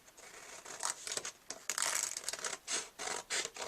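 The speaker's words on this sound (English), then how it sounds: "I'm simply going to take my scissors and cut out my little envelope flap" Scissors cut out a paper envelope flap for a handmade card, giving close, quiet bursts of snipping and paper rustle in an uneven rhythm, with no speech.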